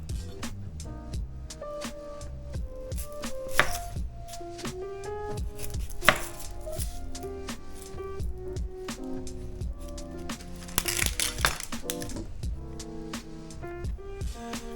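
A knife chops an onion for a homemade Chipotle-style bowl: a rapid, steady series of crisp taps on a board runs throughout, under prominent background music.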